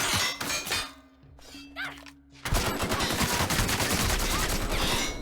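Rifle fire in the video game The Outer Worlds: a few sharp shots and thuds, then a dense, loud stretch of rapid gunfire and impacts, with faint voices in the mix.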